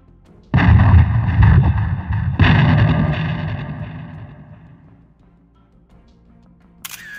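A huge explosion in Beirut erupts as a sudden massive boom, followed by a second heavy blast about two seconds later, both rolling into a long fading rumble at a distance.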